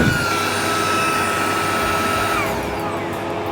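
A Hoto handheld vacuum cleaner runs steadily at close range inside a Tesla Model S Plaid, a loud continuous whine and airy roar with a faint shift in pitch near the end.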